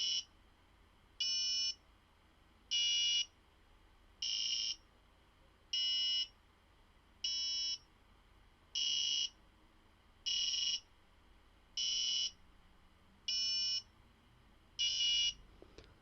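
A small electronic buzzer driven by an Arduino sounds eleven short, bright tones at an even pace, about one and a half seconds apart, with nothing else audible.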